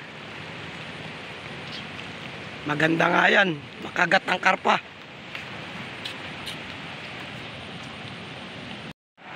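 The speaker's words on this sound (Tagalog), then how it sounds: "Oh, inabot na kami ng ulan na uli." Steady rain patters outdoors beside a fishing spot near a waterfall, a soft, continuous hiss under brief speech from a man.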